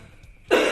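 A patient coughs once, loud and close, in a clinical setting where a respiratory therapist is assessing a cough, with a quiet room beforehand.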